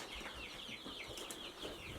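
Hens in a coop cluck and chatter softly in short, repeated calls, fairly quiet and continuous, with faint movement and no speech over them.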